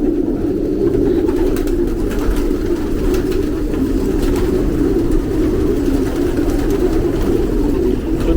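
Racing pigeons, birds that have finished the race season, are packed together in a loft compartment, making a continuous, close, low murmuring coo that holds steady throughout with no talk.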